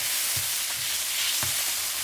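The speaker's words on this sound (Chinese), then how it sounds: "再炒调料，倒姜蒜、干辣椒、干花椒、豆瓣酱、香辣酱，炒香加水" Ginger, garlic, dried chilies, Sichuan peppercorns and chili bean paste stir-fry in a hot wok, giving a loud, dense sizzle with a few soft scraping strokes of the spatula.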